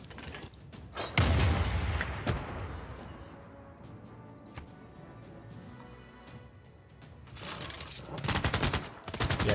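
Military units fire in Civilization VI, with a burst of gunfire and booms early on, a quieter stretch of mechanical rumble, then another volley of shots near the end, all fairly close and without speech.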